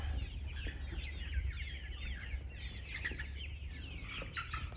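On a desi poultry farm, a flock of 52-day-old chicks, Rhode Island Reds and Black Australorps among them, clucks and chirps in a constant overlapping chorus, moderately faint, with low background rumble.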